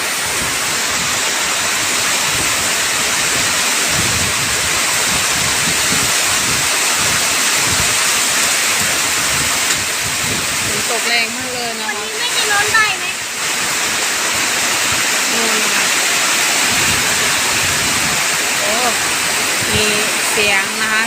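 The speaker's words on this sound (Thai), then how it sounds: "ฝนตกแรงมากเลยนะคะ" Heavy rain pours down on a house still under construction, a dense, loud, steady roar that never lets up, with a voice talking over it in places.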